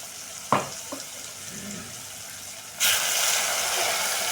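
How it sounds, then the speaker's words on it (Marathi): Garam masala, turmeric and chilli powder hit hot oil with a steady broadband sizzle that starts suddenly partway through and holds loud to the end, after a few soft clinks and quiet handling. "1 चमचा गरम मसाला, पाव चमचा हळद आणि तिखट तुमच्या आवडीनुसार टाकायचं आणि ते सगळं फ्राय करून"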